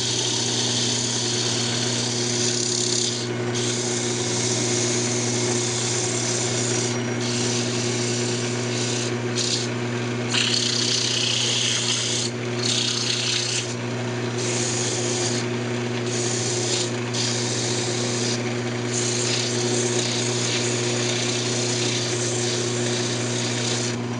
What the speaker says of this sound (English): I'm just going to go ahead and sand it up dry.